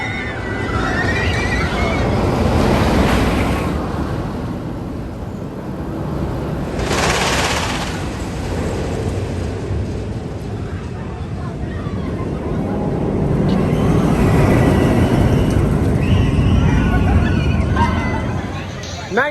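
Loud, sustained rumble and rushing wind of a ride on Magnum XL 200, a hyper roller coaster at Cedar Point, with crowd noise and a burst of screams rising midway and again near the end.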